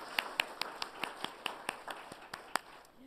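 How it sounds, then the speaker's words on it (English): Sparse, evenly spaced claps from a summit audience thanking the judges, thin and fairly quiet, about a dozen separate hand claps rather than a full ovation. "Can we please hear your applause for our judges as we thank them for their contribution as well?"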